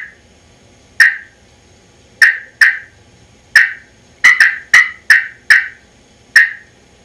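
Sharp, high clucking cuts from a turkey call played with heavy pressure, about a dozen spaced irregularly, some in quick clusters, loud and close.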